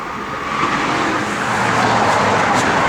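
A 1967 Chevrolet Camaro RS sits idling with its smog pump running, giving a steady, loud, close engine rumble with a constant hum and no talking.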